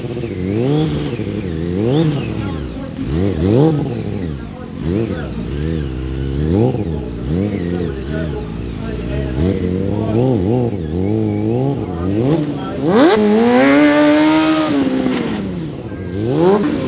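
A motorcycle engine revs repeatedly during stunt riding at an outdoor motorcycle show in England. The loud, close revving rises and falls in quick bursts and ends in a longer, higher rev.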